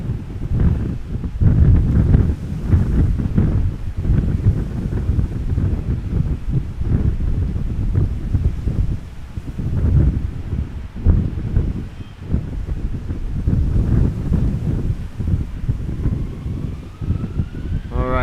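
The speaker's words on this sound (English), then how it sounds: "Pesky wind." Gusty wind buffets an outdoor microphone at Amsterdam Schiphol Airport, a steady low rumble with stronger surges, and a faint rising tone near the end.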